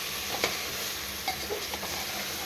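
Onions sauté in a pan while being stirred, a faint steady sizzle with a few soft scraping clicks of the spoon, no voices.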